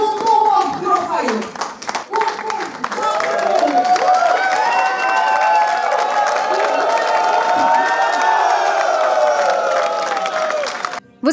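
Minaj football club supporters and ultras at the home ground cheering and clapping during the championship trophy presentation: a loud, sustained crowd roar with chanting voices, briefly dipping early before swelling and holding until a sharp cut at the end.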